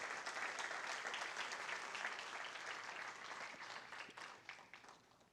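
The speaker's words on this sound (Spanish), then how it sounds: "dale un fuerte, fuerte aplauso al Señor" A church congregation applauds, a full burst of clapping from many hands that stays strong before thinning and fading out near the end, with no talk over it.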